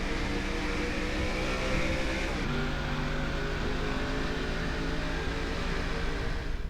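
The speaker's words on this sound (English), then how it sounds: "Now here we are riding on board with the number 27 VZ Camaro of Matt McIntyre." Race car engines roar steadily at high revs in a NASCAR SEGA Cup Series video game race, heard on board the number 27 VZ Camaro, with a dense continuous drone and a slight pitch shift midway, loud and unbroken.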